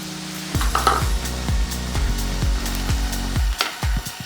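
Cabbage being tossed and stirred through chicken salad in a hot pan, a steady sizzle broken by repeated scraping knocks of a spatula against the pan, close and busy with no talk.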